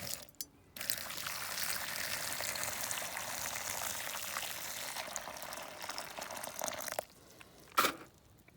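Water poured into a container during a diecast Morris Minor and Austin Mini restoration, a steady hissing splash for several seconds, close and moderately loud, then stopping with a brief clunk.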